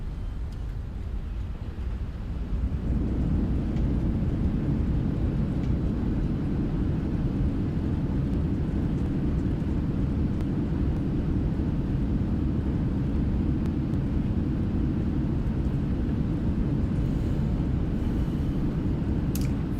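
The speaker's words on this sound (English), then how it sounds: "And reverse thrust." A Boeing 777-300ER in a flight simulator rolling down the runway as reverse thrust builds into a loud, steady engine roar that holds unchanged for many seconds.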